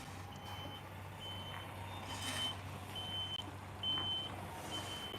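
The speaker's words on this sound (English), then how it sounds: "there's just a truck that's coming in" A truck reverses with a repeating high electronic backup beep, evenly spaced tones over several seconds above a low engine rumble, heard from a short distance outdoors.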